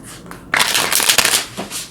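Tarot cards shuffled by hand, a brisk riffling flutter that starts suddenly and runs in bursts, close and fairly loud.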